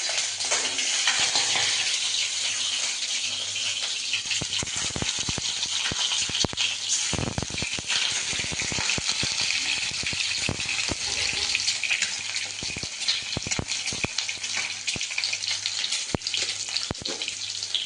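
Eggs frying in hot oil, a continuous crackling sizzle with scattered sharp pops and some clinks of utensils throughout.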